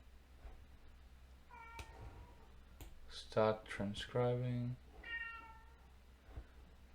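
A cat meows several times in the background, a few short, clear calls mixed with clicking sounds, while someone speaks briefly nearby.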